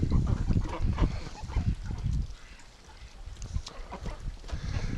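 Ducks on a winter farm, muddy from frozen ground, quack and honk in low, rough bursts close by, waiting beside a filling water tub, with a quieter lull midway.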